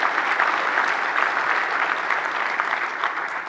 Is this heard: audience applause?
yes